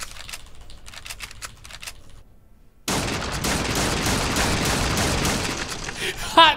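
Gunfire from an unsilenced weapon in a video game, beginning with a light, sparse crackle and then bursting into a loud, sustained volley that runs to the end with a sharp final burst.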